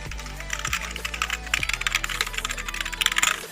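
Rapid clicky typing on a budget YOUDA T-666 LED gaming keyboard, dense overlapping keystrokes close up with a few heavier thumps, no talking.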